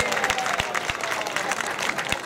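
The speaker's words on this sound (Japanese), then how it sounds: "大きな拍手お願いします。" An audience at a student pro wrestling event applauds steadily, a moderate wash of many hands clapping with a few louder individual claps and light crowd noise underneath.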